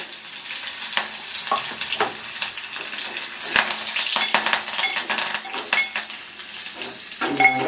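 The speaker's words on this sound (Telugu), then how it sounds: "వేగుతున్నాయి" Dried red chillies and curry leaves fry in hot oil with a dense, crackling sizzle, close up, as sharp pops and spatters and a few utensil clicks rise through the steady hiss.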